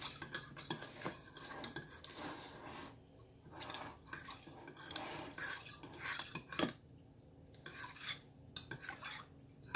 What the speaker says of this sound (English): Now take just a few seconds here to stir up and make sure that marmalade is broken down.